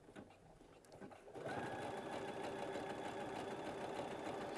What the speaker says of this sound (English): I'm going to zigzag using that 4mm zigzag over that gap right there